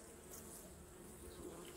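Steady, low insect buzzing from many honeybees inside a hive being prepared for winter fills the clip, a dense continuous hum close by with no speech.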